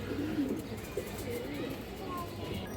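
Racing-line pigeons of good pedigree coo softly and repeatedly close by, low throaty rolls recurring through the moment while someone talks over them.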